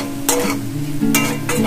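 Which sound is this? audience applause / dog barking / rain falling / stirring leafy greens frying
stirring leafy greens frying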